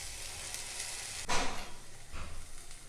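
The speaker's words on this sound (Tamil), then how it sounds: "இது நல்லா ஊறி இருக்கிறதுனால வதக்கி விட்டால் போதும், உடனே வெந்துடும்." Vegetables being sautéed in a pan for a South Indian cluster bean poriyal, a steady soft sizzle with a brief louder stirring burst midway, heard alone without talk.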